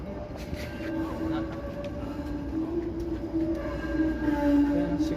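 A Toronto streetcar approaches a loop on a Monday evening, its steady rail rumble and faint wheel squeal building slightly louder over continuous city background noise.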